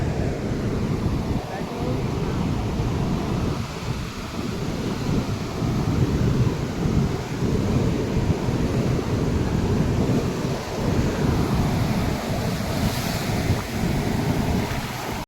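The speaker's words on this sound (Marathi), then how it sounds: "समुद्राला फुल भरती आहे उधाण आलं आहे" Loud surf at high tide on Ganeshgule beach on the Konkan coast forms a continuous broad roar, with wind buffeting the microphone throughout and no pauses.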